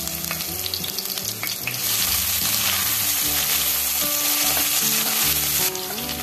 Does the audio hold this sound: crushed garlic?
yes